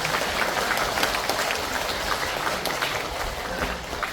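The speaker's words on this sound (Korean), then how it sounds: "다시 한번 뜨거운 박수 부탁드립니다" An audience at a special lecture in a district office hall gives dense, sustained applause that holds evenly throughout, with no voices over it.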